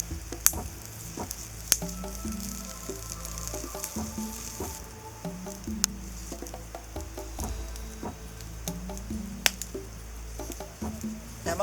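A mud crab fries in a hot pan, giving a steady sizzle broken by intermittent crackles and sharp pops, heard up close with no one talking.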